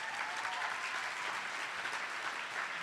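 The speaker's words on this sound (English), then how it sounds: "You can clap." Steady applause from an audience at a Boys and Girls Club Youth of the Year event, a dense, continuous clapping that holds at an even level with no voices over it.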